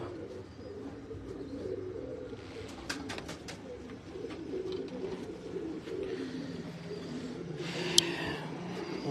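Pigeons in a breeder's loft, a pair of dab-type birds with their chick, coo steadily in low, rolling murmurs, with a few sharp chirps and a faint vehicle rumble in the background.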